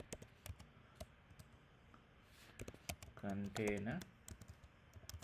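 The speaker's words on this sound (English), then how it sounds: "I'm going to start typing the command to create a Kubernetes cluster" Someone types a gcloud command on a computer keyboard, producing soft, scattered key clicks at low volume. A person briefly speaks partway through.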